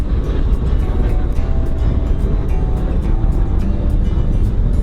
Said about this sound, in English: That's the sound of a England Air Force Base fighter jet.